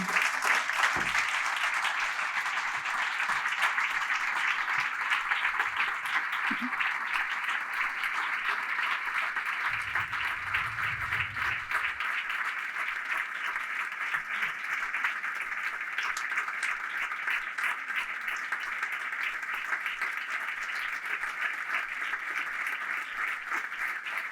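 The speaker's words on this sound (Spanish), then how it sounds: "Y ahora sí pido un fuerte aplauso para nuestro reconocimiento de hoy a Juan Cid Zorionak." Sustained audience applause at a Third Sector Social Day awards event, greeting an honoree; steady dense clapping from a large crowd fills the whole stretch without letting up.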